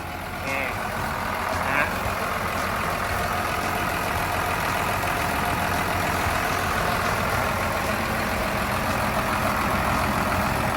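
A Komatsu WA200-5Y wheel loader's engine runs at a steady idle, a continuous low, even rumble with a faint mechanical hum throughout and no changes in pitch or load.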